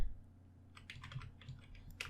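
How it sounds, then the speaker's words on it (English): Light typing on a computer keyboard during a Kali Linux Python session, a few soft, quiet keystrokes in short clusters over a low steady hum. "I will simply just type"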